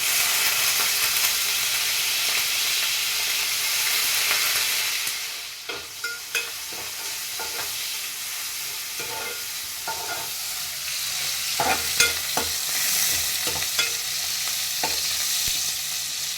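Dried shrimp, rinsed beforehand, frying in a pan for a tangy shrimp and tender tamarind-leaf curry, with a steady close sizzle and hiss broken by clinks and scrapes as it is stirred.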